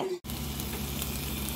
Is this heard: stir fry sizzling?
yes